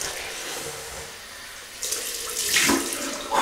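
Tap water runs into a sink to rinse a Gillette Heritage double-edge razor, a steady hiss that swells louder partway through and splashes near the end, with no talking.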